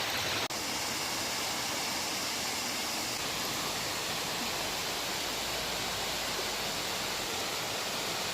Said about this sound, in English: So we are officially at his favorite waterfall.